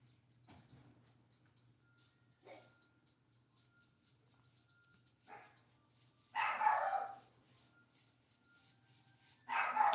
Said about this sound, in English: My dog's barking at me.